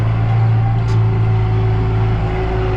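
A Kubota M9540 tractor engine runs at high revs, a loud, steady, close droning hum with a strong low tone, unbroken across the short stretch and with no one talking.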